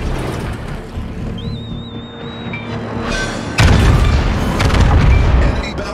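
A heavy boom erupts in a naval video game as an enemy battleship sinks, a sudden loud blast rising over a constant low rumble of engine and sea noise and staying sustained and dense to the end.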